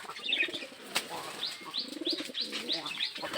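Pigeons in a pigeon farm coo in a repeated series of soft, rolling calls, with higher chirps and brief rustling over the top, close by.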